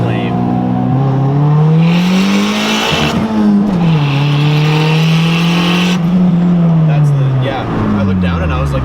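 A car engine revving hard to shoot exhaust flames, with the pitch rising, dropping and climbing again through repeated surges over nearly nine seconds, close and loud under excited talk.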